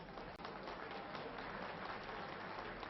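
Steady crowd applause fills the hall at a French wrestling bout, dense and continuous throughout with no break.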